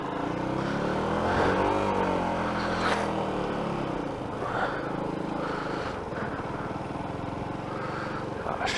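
A supercar driving along a residential street, its engine a steady loud roar with rising revs and a few throttle surges, heard continuously without talk.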